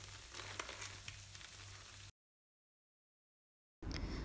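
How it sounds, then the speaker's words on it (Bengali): Garlic and chopped onion fry in a pan, a steady crackling sizzle close by that cuts out midway and returns briefly after a pause. "নিয়েছি সাথে পেঁয়াজ কুচি নিয়েছি, নিয়ে জাস্ট একটু নেড়ে চেড়ে হালকা একটু ব্রাউন করে আমি ভেজে নেব"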